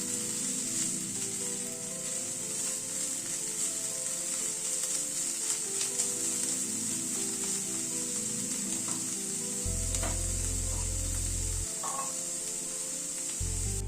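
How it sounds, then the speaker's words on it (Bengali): Chicken frying with spices in a pan, a steady close sizzle running throughout with occasional stirring scrapes, no voices. "মিনিট দু তিনেক মতো চিকেনটাকে সব মশলার সাথে ভেজে নিলাম"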